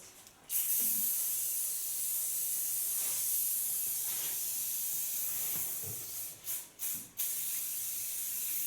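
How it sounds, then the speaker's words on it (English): Soft hairspray hisses onto a layered hairstyle with a soft fringe in one long, steady close spray, followed by a few short puffs near the end. "I use only to fixate this hairstyle a little bit soft hairspray."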